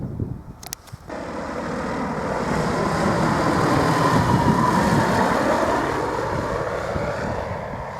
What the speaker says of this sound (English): behind me there's a microlight coming in now